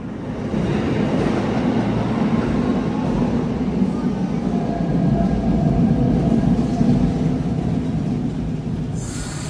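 A train arrives at Christchurch station with a loud, steady rumble and rolling rail noise that holds unbroken for several seconds before shifting abruptly at the end.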